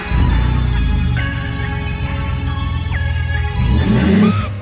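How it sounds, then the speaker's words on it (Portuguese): A Ford Mustang engine with a new exhaust revs loudly and close, a deep throaty drone with rising and falling pitch held throughout, with no talk. "a gente vai fazer um vídeo agora do antes e depois do barulho do carro"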